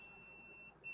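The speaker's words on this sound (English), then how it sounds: "I'm paying attention to the cup press to make sure that I get it when it starts beeping" A tumbler cup press gives steady electronic beeping, two high pure tones sounding continuously and faintly in a quiet room, with a brief dip and then the tones resuming.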